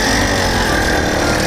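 A 100cc iron-sleeve motorized bicycle engine runs with an aftermarket exhaust louder than stock, giving a close, loud, steady buzzing drone.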